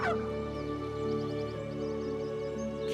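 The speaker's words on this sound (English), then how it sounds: "It's a pheasant." A pheasant gives a harsh, buzzy call opening a steady, tonal bird soundscape, followed by a faint series of rapid chattering notes repeating in the background.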